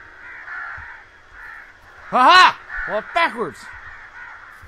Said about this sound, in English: I hear these crows.